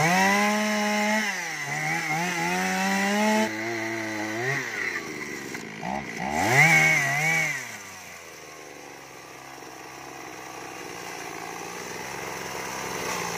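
A chainsaw cuts into a large golden wattle tree over thirty years old, the engine screaming and dropping in pitch as it bites and revs, then fading to a low idle near the end.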